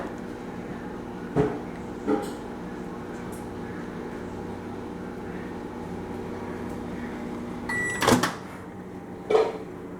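A microwave oven hums steadily with a low drone, broken by a few sharp clicks and knocks, including a door clack near the end; faint voices occasionally come through.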